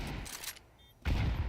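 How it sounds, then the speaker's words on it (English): A grenade lands in the Counter-Strike map Mirage during a pro esports match: a short crackling burst of gunfire, a brief lull, then a louder thudding blast with noisy in-game clatter, all heard close without speech. "Oh, the perfect nade."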